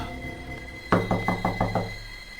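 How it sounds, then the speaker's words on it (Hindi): A sudden knock on a door as a horror story sound effect on a rainy night: five crisp, evenly spaced knocks over a low steady hum. "जब दरवाजे पर अचानक दस्तक हुई।"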